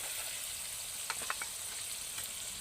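Spice paste, with coriander powder and a splash of water, sizzles steadily as it is sautéed in a pan, a dense even crackle with a few soft stirring scrapes near the middle.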